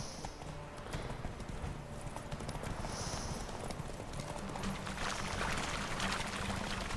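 A horse gallops in The Witcher 3 video game, with rapid, continuous drumming hoofbeats close by, steady and loud for the whole stretch, over a rushing outdoor ambience.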